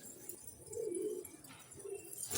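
Flight-club pigeons coo softly nearby, two low, rounded coos separated by a short pause, with a faint rustle at the end and no voices.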